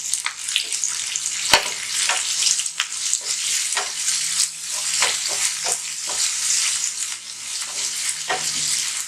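Curry leaves and green chilies crackle loudly in a hot pan for a lamb kidney fry, a dense continuous sizzle punctuated by repeated stirring scrapes and knocks from a utensil.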